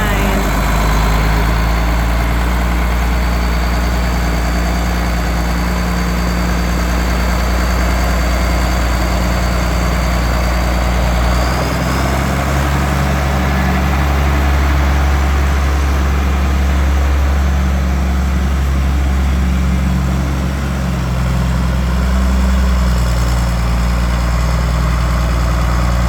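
A John Deere 4440 tractor engine idles steadily and loudly close by, a constant low rumble throughout with no revving, while voices talk faintly over it at times.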